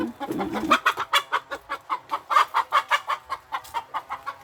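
A hen clucks in a steady rhythmic series of short, close, moderately loud calls, with a brief lower rustle at the start.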